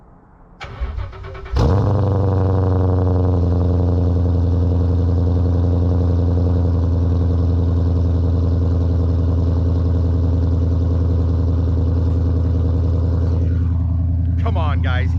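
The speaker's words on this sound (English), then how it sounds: "I mean, badass 500 horsepower American V8. Yeah, you guys want a cold start." A 500 horsepower American V8 swapped into a Volvo C30 cold-starts with a loud crank and catch, then settles into a steady, deep, loud idle that holds close and unbroken for over ten seconds.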